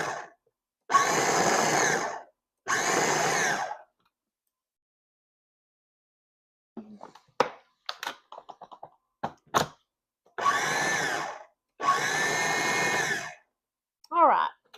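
A food processor pulses pie crust dough with butter in short, loud whirring bursts: two pulses, a pause filled with soft clicks and handling noises, then two more pulses and a final tap.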